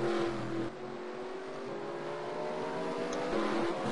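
NASCAR Sprint Cup stock cars racing at Sonoma Raceway (Infineon), a road course, in the late laps of the 2015 Toyota/Save Mart 350: a steady, loud engine roar with sustained tonal drone and a slight surge near the end, no talk.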